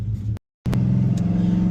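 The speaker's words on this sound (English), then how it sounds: "Holy fuck, it's a lot of cars." Heavy road traffic with several cars rumbling and revving nearby, a low steady engine drone broken by a sudden brief dropout before the dense vehicle noise resumes, loud and continuous with no talking.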